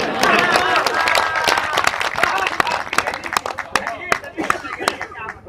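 An audience at a Hindi comedy poetry show claps and applauds continuously, dense and loud throughout with a voice faintly mixed in.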